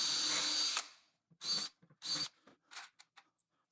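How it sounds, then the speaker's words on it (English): A power drill bores holes into cabinet wood: one longer whirring run followed by several short bursts and brief trigger blips, close and clear with no talk. "I'm going to go ahead and just drill 3 holes"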